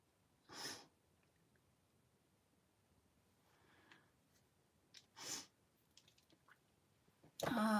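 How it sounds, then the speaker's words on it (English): A few short, sharp sniffs spaced apart in a quiet room, with a louder, harsher snort-like sniff at the very end. "Sorry for sniffling."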